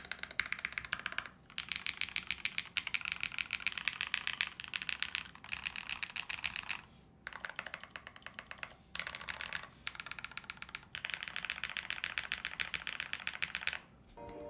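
Fast, steady typing on a mechanical keyboard fitted with polycarbonate keycaps, a dense run of crisp clacks with a few brief pauses between bursts, close and clear with no talking.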